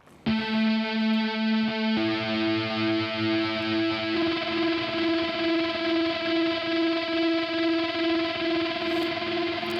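Polyphonic modular synth voices run through distortion, a sustained buzzing chord that shifts at two and four seconds, then holds with slow pulsing beating as the texture thickens.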